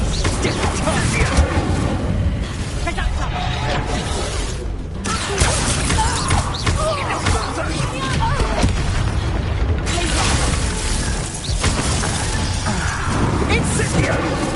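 Spell explosions in Hogwarts Legacy boom and burst almost continuously in a loud, dense barrage of combat blasts, while a voice shouts over the fight.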